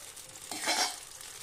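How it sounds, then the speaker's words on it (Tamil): Tamarind water mixed with chilli powder, salt and ground spice powder bubbling in a pan while it's stirred, for temple-style tamarind rice; a steady close sizzle with a brief louder surge of bubbling in the middle. "இப்போ நல்லா கொதி வர ஆரம்பிச்சிருச்சு."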